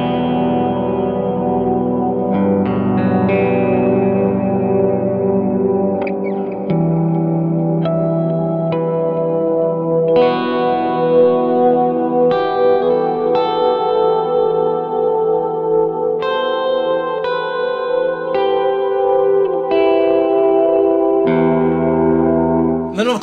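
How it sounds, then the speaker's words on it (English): An SG electric guitar with P90 pickups is played through ethereal, reverb-heavy and echoing effects, producing sustained layered chords and ringing single notes that blend into a full, washing texture throughout. "Let's put some ethereal stuff in there, see if we can make it sound kind of full."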